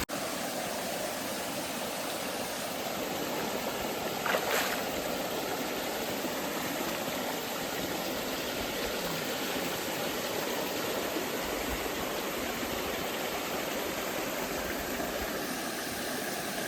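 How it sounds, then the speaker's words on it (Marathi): Water pours from the mouth of a traditional field water channel outlet in Konkan, a continuous, close, steady rushing roar with no pauses and no talk. "पाण्याचा स्रोत आता वरून वाढला आहे त्याच्यामुळे ही अडकवून अशी ठेवली जाते आणि हा पाणी येतो त्या कोईनच्या तोंडातून असा इथून"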